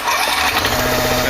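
Small engine on a mosquito sprayer catching and running after a push-button start with choke, a steady mechanical buzz with a rising harmonic whine, close and fairly loud.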